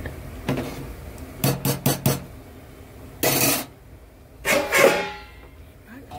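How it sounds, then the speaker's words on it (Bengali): Metal lid set onto a pot of vegetable khichuri, a few clanking rattles then a series of quick metallic clatters and scrapes as it settles, close and alone. "এই খিচুড়িটা আমি ঢাকা দিই।"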